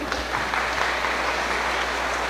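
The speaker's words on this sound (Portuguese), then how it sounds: "Vamos aplaudir?" Congregation applauding during a Catholic Mass on the first Sunday of Lent, a steady wash of clapping that runs through the whole short stretch at an even level, with no speech over it.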